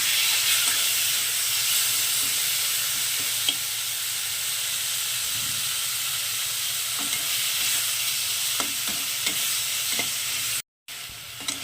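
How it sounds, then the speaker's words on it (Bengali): Steady loud sizzling of prawns frying in hot oil, with occasional stirring clicks, continuous throughout and briefly cutting out near the end. "এবার চিংড়ি মাছগুলোকে আমি ভেজে নেব"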